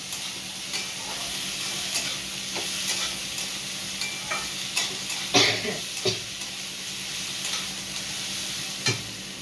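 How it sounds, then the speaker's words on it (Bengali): Onions fry in a pan, a constant close sizzle broken by repeated scraping stirs and a few louder clanks of the spoon against metal, with no voices. "পেঁয়াজটা দিয়ে আর একটু ভাজা ভাজা করে নেবো।"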